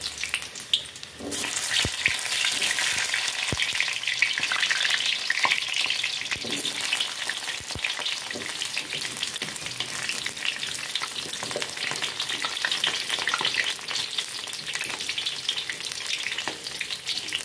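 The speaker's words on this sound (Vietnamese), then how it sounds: "bây giờ mình đi chiên cái phần khoai." Steady, loud sizzling of taro pieces frying in hot oil, with occasional stirring clinks, continuing throughout with no talking.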